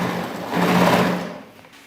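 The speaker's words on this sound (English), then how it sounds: "So I will keep sewing." A sewing machine runs steadily, stitching fabric for ruffled balloon sleeves, with a close, continuous mechanical whir that swells slightly midway and then eases off near the end.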